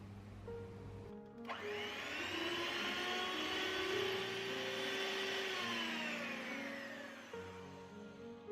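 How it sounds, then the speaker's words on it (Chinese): An electric hand mixer whips a small batch of egg whites for soufflé pancakes on low speed 2, starting abruptly with a steady whirring whine that holds for about six seconds before cutting off. "蛋清不多，我全程都用2档搅打"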